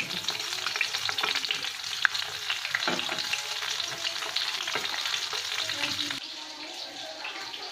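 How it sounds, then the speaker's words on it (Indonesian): Chicken pieces sizzle and crackle steadily as they fry in hot oil for ayam penyet. The loud, continuous frying noise is heard alone and eases slightly near the end. "Sebelumnya kita goreng dulu ayamnya."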